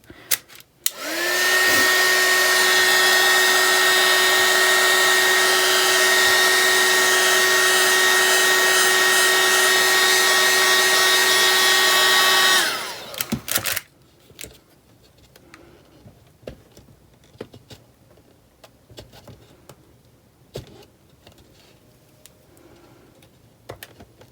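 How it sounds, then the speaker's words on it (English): A heat gun softens resin drips, blowing a loud, steady roaring whine for about eleven seconds before cutting off, followed by quiet handling noises. "it's very soft right now, this area that I did with the heat gun."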